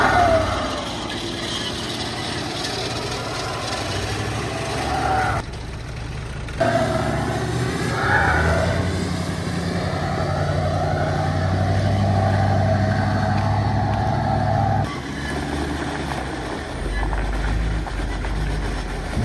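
A tracked truck with a dozer-style build creeps onto a trailer, its engine rumbling steadily at close range with a brief dip midway and a heavier low surge near the end, no talk over it.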